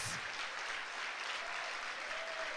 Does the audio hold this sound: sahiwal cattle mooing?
no